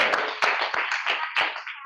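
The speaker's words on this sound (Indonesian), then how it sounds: "Boleh tepuk tangan sekali lagi?" An audience in a training-session room breaks into a round of hand clapping at the end of a talk: a scattered, irregular patter of claps, fairly close and moderately loud, with no talking over it.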